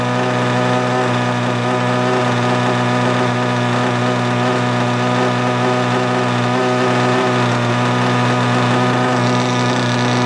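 A nitro engine running on a steady break-in, close up and loud, with a constant buzzing drone and a high whine held without pause for ten seconds, with no voices.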